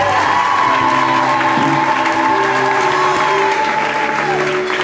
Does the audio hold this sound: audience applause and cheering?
yes